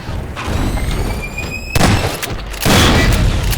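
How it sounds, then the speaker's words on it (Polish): Explosion in Half-Life 2: Episode Two, a loud booming burst with a second heavy blast following after a short gap, mixed with game background noise. "O jak to wybuchło tuż przy mojej głowie"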